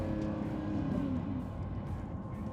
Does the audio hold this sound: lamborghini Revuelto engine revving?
yes